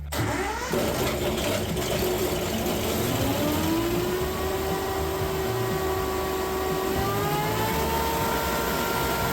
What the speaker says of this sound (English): that sums it up with the Honda motor here on this insulation blower. Running great.